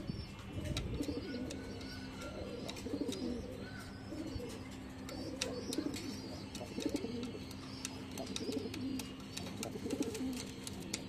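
A pair of pet pigeons, both in molt, coo steadily in low, soft, rolling murmurs that overlap and repeat throughout, close by and continuous, with faint chirps above.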